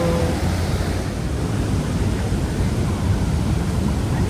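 Powerful rushing water at a scenic spot in Alberta, a dense continuous roar of broadband noise with some wind buffeting on the microphone, steady and loud with no voices.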